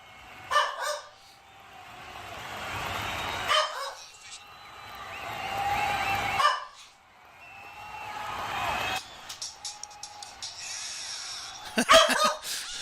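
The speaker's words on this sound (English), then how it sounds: "Excuse the dog barking." A dog barks and yips in repeated bursts from a home during a late-night livestream, sometimes close and loud, with a person's voice talking over parts of it.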